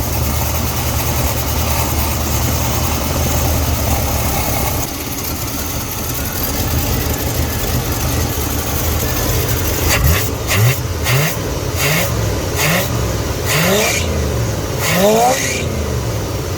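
A Cadillac V8 with a Quadrajet carburetor idles steadily during steam cleaning, then is revved in a series of sharp, rising bursts over the second half, loud and close.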